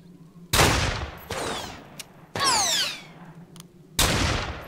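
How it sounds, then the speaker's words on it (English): An enemy firing at the player in the Fallen Earth video game, with several loud, sharp bursts of gunfire separated by short pauses, close and with no talk over it. "he's shooting me"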